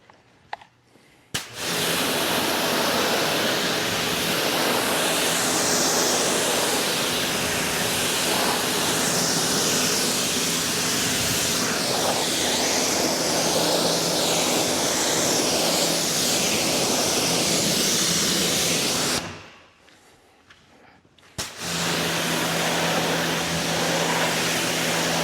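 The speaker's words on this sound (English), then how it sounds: "I'm gonna do a very thorough rinse all the way throughout." A pressure-washer rinse sprays water over a car during a wash, a loud, steady hissing rush that runs continuously, cuts out briefly near the end, then resumes at the same strength, with no talking.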